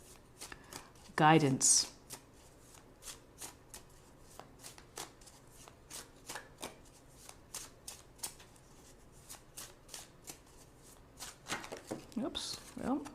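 Tarot cards shuffled by hand in a brief loud riffling burst near the start, followed by softer intermittent card taps and slides while someone talks quietly throughout.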